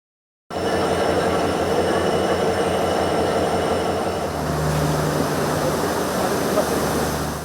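A train on the Mahawa–Anuradhapura railway line in Sri Lanka rumbles steadily past at close range, a loud continuous roar of wheels on rails with a faint squeal, starting abruptly after a brief silence.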